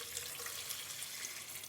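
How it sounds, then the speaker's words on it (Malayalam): Water pours from a tap or jug into a pot holding a small piece of ginger, a quiet, steady splashing trickle lasting under two seconds with no talking. "വെള്ളം ഒഴിച്ച് കൊടുക്കാം."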